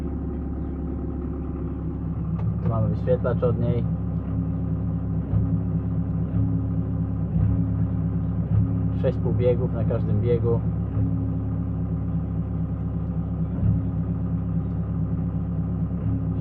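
A CLAAS Ares 567 ATZ tractor with a 4.5-litre, 114 hp John Deere engine idles nearby with a steady low rumble, while someone talks over it.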